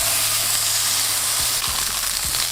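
A beef meatball pressed flat on a hot pan for a cheeseburger sizzles in a loud, steady hiss, with a few dull scraping thumps from the smashing spatula, near and without voices.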